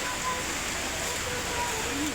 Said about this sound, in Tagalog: Kusuking ulan sa gawas.